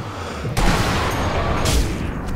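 Sniper rifle shots in Sniper Elite V2, two loud sharp cracks about a second apart, each followed by a long rumbling tail over dense background noise.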